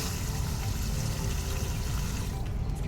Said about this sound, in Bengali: আমি একটু জলটা ফেলে দিই